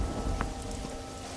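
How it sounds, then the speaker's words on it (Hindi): Steady rain falls in an animated cartoon during cold, unseasonal weather, a dense, even hiss that carries on without a break for the whole moment, with no voices over it. "धीरे धीरे बारिश बढ़ जाती है"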